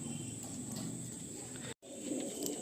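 Soft cooing from a restless female pigeon in a loft, low repeated throaty notes, close and quiet, with a brief gap of silence partway through.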